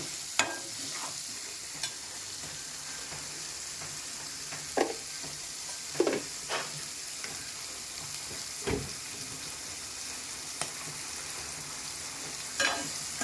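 Mutton for fried rice sizzling in a pan with coriander and turmeric, stirred with repeated scraping strokes spaced every second or two over a steady frying hiss.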